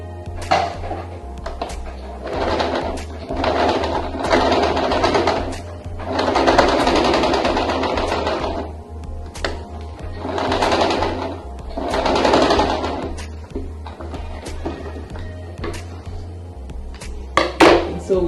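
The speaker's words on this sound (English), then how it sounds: "so I'm going to sew this now so as to fasten it" Sewing machine stitching a face mask made from old plastic shopping bags, running in several bursts of steady mechanical whirring with brief pauses between runs, close and fairly loud.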